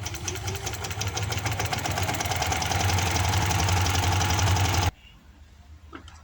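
Domestic sewing machine stitching the seat seam of capri trousers, a steady continuous mechanical whir running loud and close for about five seconds before stopping abruptly, leaving a quiet tail.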